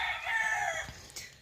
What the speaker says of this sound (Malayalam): കോഴി വീഡിയോ എടുക്കുമ്പോൾ മാത്രം ഭ്രാന്തടിക്കുന്നുണ്ട്